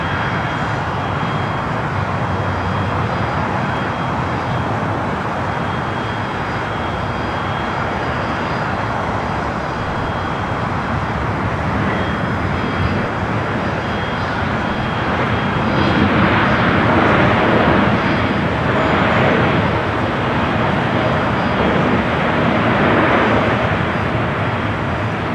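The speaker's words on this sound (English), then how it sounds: "freighter coming in from Taipei, flight 5138, actually running early here today." A Boeing 777 freighter arriving from Taipei at Los Angeles International Airport roars loudly and continuously, a broad engine rumble that builds slightly stronger in the second half as it passes close by.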